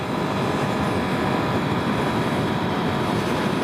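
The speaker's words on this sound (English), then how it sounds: "Love the sound of the cross-plane crank" A 2021 Yamaha R1 sport motorcycle with a cross-plane crankshaft engine, ridden on the road at around 6,000 RPM, gives a continuous, dense engine roar mixed with wind rush at an unchanging level.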